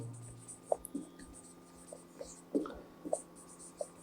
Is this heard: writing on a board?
yes